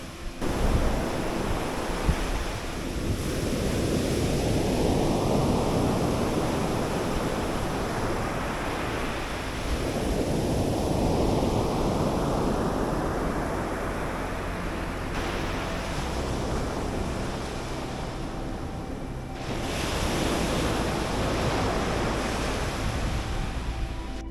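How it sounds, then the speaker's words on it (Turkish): Sea waves rolling in and crashing on the beach at Yalıköy, Çatalca, several long surging washes that swell and recede, with wind buffeting the microphone. "dalgaları sesini daha da yakından dinleyelim"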